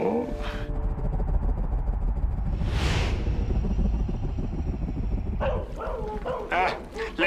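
A cartoon dog barks and yips with short sharp calls amid a loud rumbling soundtrack and a whooshing effect in an animated French series.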